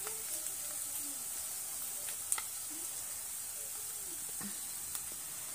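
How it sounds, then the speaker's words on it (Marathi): Onion fries with ginger-garlic paste in a pan for a rustic Marathi-style potato curry, a steady soft sizzle and hiss throughout with a few faint crackles, no voices. "आता कांदा आपला व्यवस्थित भाजत आला आहे"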